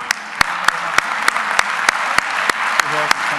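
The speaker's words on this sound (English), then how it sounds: "we will give you all a big round of applause" Audience applause at an awards ceremony in Madrid, a steady dense wash of clapping with a string of sharp, regularly spaced clicks running through it and faint voices in the background.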